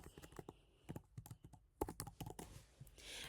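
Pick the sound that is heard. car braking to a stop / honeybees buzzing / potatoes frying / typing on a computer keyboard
typing on a computer keyboard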